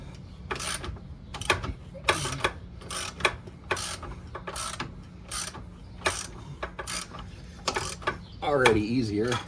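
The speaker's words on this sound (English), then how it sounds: "Now I'm gonna tighten it up a little." Ratcheting a fastener tight on the rear air suspension of a Honda GL1500 Goldwing motorcycle, heard as repeated sharp clicking bursts in an irregular rhythm, close up, with a brief squeaky rubbing sound at the end.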